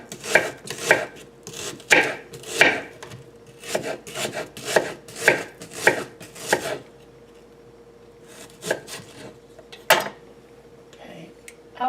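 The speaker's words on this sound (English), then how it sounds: "I like to slice the onion" A knife slices an onion thinly for homemade chicken soup, giving a steady series of sharp, close chopping taps against a board, pausing briefly before a few more scattered cuts.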